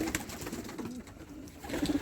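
Soft pigeon coos repeat in a low, murmuring rhythm, with a clearer burst of cooing near the end over faint background noise.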